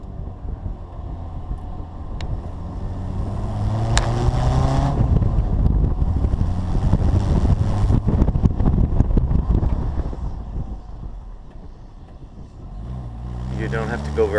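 A Bugeye Sprite sports car drives at low speed through slaloms, its small engine droning steadily under heavy wind buffeting throughout, loud and close with a brief lull near the end.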